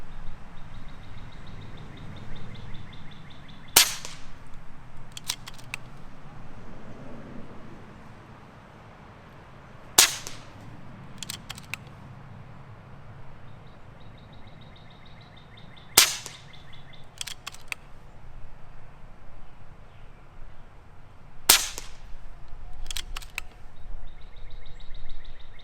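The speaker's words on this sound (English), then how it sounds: "we're going to shoot some 26 grain hybrids, and we're shooting at 50 yards" Four sharp air rifle shots from a R.A.W. HM1000x firing 26 grain hybrid pellets at a 50 yard target outdoors on a windy day, spaced about six seconds apart, each a loud crack followed by a faint distant impact.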